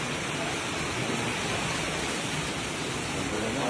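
Heavy rain pours steadily at a farm, a loud, dense, unbroken hiss close by, with no pauses or voices heard.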